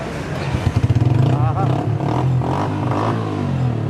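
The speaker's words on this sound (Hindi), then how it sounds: "ज़रा फिर से आपको इसका सेल्फ स्टार्ट चेक करवाते हैं।" A 2017 Yamaha YBR 125 motorcycle is self-started, the starter cranking briefly before the engine catches and settles into a loud, steady close-up idle.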